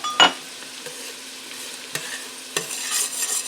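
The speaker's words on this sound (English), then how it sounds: "And give that a good stir." A spoon stirs seasonings into broccoli cheddar soup in a pot, giving a few soft scraping and clinking strokes over a faint steady background hum.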